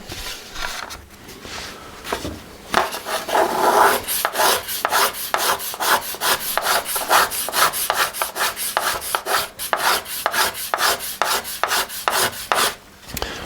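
A violin maker's tool scrapes very thin wood shavings from a violin, a close, rhythmic series of dry rasping strokes repeating steadily with no talk.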